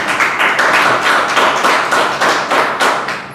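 Toastmasters meeting attendees applaud together, a steady run of many hands clapping close by, loud and dense for a few seconds before easing off at the end.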